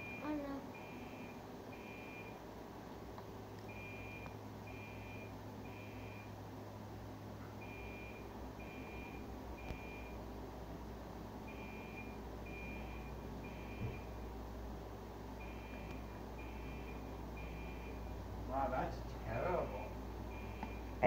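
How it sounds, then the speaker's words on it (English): A fire alarm under test aboard a ship gives faint, short electronic beeps in quick groups of about three, repeating steadily through a low engine hum while people talk. "It's a fake fire alarm just to test it."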